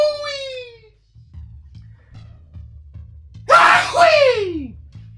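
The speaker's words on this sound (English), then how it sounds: "Just a little sneezy sneeze." A single sharp human sneeze bursts out loud and close, right after a short vocal sound and a stretch of quiet low hum.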